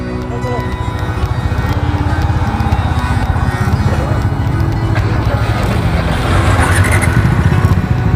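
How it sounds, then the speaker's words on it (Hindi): A Mahindra Dominar motorcycle rides off-road through hilly terrain, its engine droning steadily and fairly loud with wind and rough-ground rumble, while voices talk intermittently over it. "ये है महिंद्रा की बाइक"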